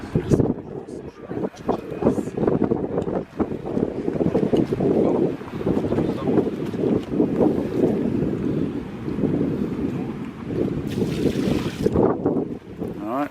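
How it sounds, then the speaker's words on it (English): Wind gusts buffet the microphone outdoors at a carp fishing lake, a steady rumbling roar under occasional speech, with water lapping nearby. "it's a bit windy today"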